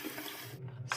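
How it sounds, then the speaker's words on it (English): Hot water runs from a tap into a container in a hotel room, a steady close rush of flowing water that drops off briefly and then returns. "Fill this up. Some hot water."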